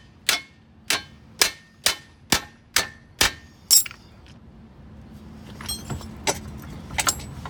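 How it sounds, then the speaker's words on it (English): A hammer strikes the worn lower control arm of a 2003-2008 Hyundai Tiburon, ringing metallic clangs in an even series of about eight loud blows, followed by a few scattered fainter knocks. "Use the hammer and break right here."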